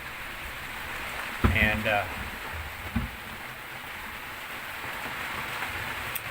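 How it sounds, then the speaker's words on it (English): Steady rain patters across the cockpit of a sailboat in the Seychelles, a constant hiss through the whole stretch, with a couple of brief voice bursts and thumps cutting in over it. "trying to stay out of the rain"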